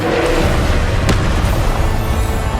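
Incendio fire spell cast in Hogwarts Legacy, a loud whooshing burst with a sharp flare near the middle, layered over dense rumbling game effects.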